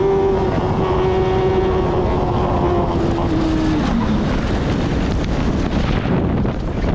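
An F1000 race car at Snetterton circuit roars with a steady engine drone, its high pitched tone sliding down as it changes gear, heavily buffeted by loud wind noise on the microphone throughout.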